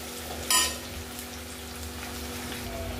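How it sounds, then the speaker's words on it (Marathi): Onion frying in a pan for a spicy dal curry, a steady soft sizzle with a brief louder hiss near the start, heard close and fairly quiet. "आता छान कांदा फ्राय होतोय."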